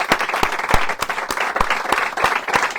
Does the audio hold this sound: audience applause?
yes